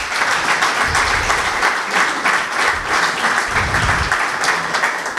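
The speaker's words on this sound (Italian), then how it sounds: "Io farei un grosso applauso al presidente della Rapido Latina" A crowd at a futsal awards event gives loud, sustained applause for the president of the Rapido Latina club, a thick, even wash of many hands that lasts over five seconds without any voice on top.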